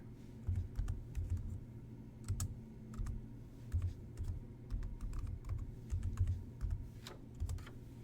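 A computer keyboard clatters in quick, soft bursts of keystrokes while someone types into a Google search bar, faint and near with no voices.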